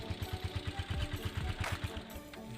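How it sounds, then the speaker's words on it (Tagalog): A Honda TMX 125 Alpha motorcycle engine running close by with a rapid, regular low thumping pulse, a quick even putter that softens slightly near the end. "So umaandar yung makina niya sa text niya."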